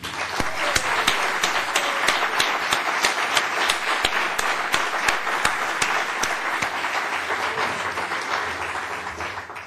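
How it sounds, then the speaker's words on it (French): An audience at a university excellence ceremony applauding new members, a steady burst of many hands clapping that holds at an even level throughout and tapers slightly at the end. "Je vous invite à tous les applaudir."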